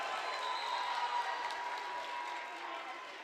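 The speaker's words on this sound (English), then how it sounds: "Myers got a big hand from the crowd here, Jerry, for his first touch of the ball on the varsity level" Crowd at a high school varsity basketball game between Rochester and Shelton gives a player a big hand, steady broad clapping filling the gym, slowly easing off toward the end.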